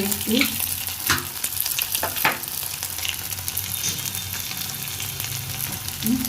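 Meat fries and is stirred in a pan with ground cumin, coriander and spices, a steady close sizzle with occasional scraping stirs and clatter throughout.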